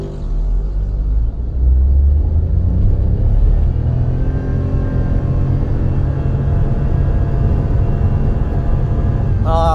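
A Toyota Raize 1.0 turbo with a CVT accelerates in power mode, its engine drone swelling from the cabin and then holding a steady rumbling whine along with road noise, loud and continuous throughout.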